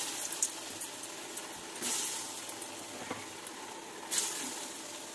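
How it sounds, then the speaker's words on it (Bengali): Green banana koftas fry in mustard oil in a wok with a soft, steady sizzle. A few brief louder bursts of crackle rise through it, and the whole sound is fairly quiet and close, with no voices. "আর এখানে কিন্তু আমি কড়াইতে তেল দিয়ে দিয়েছি, সর্ষের তেল দিয়ে দিয়েছি, দিয়ে কিন্তু আমি আস্তে আস্তে করে সব ভেজে নেবো।"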